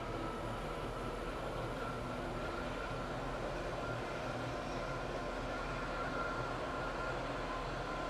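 A Class 170 train on the Stepford County Railway video game runs with a faint, steady rolling rumble and hum of rail noise, continuous and even, with no voices over it.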